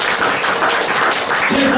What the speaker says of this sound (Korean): 우리 김정민 박사님한테 우리와 같은 박수 한번 부탁드리겠습니다